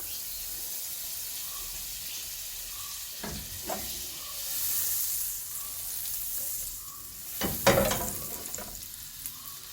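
Butter sizzling and frying in a hot pan on the stove, a steady hiss that runs throughout, with a couple of louder scraping bursts partway through.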